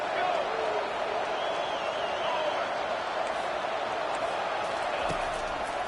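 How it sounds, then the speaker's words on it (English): A home crowd at a college football game roars on a tense third-and-long after back-to-back sacks, a steady wash of stadium noise holding at an even level under a commentator's voice. "this home crowd is going berserk for this 3rd and long"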